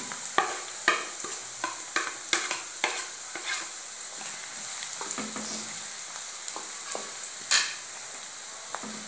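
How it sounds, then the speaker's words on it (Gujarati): Chopped onion sizzles steadily in a pan with roasted garlic for a pizza sauce, while a spoon stirs with frequent scraping clicks near at hand. "તો લસણ શેકાઈ ગયું છે તો હવે આપણે એમાં ડુંગળી નાખીશું કાપેલી."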